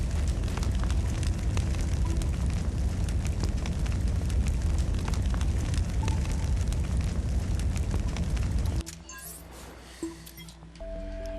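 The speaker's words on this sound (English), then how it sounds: "As soon as you touch the lava, our area around us is going to be like we're burning in fire." A fiery burning effect in Trials Fusion, triggered by touching lava, as a dense, steady roaring crackle that holds for about nine seconds, then cuts off abruptly to quieter game sounds.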